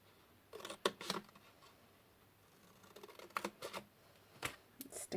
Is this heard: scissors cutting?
yes